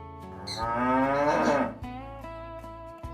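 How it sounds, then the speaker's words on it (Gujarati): Punganur cow, the world's smallest cattle breed, at a nature park, lowing in one loud, drawn-out moo that swells and fades into a quieter, lower continuation nearby. "દુનિયાની સૌથી નાનામાં નાની ગાય છે"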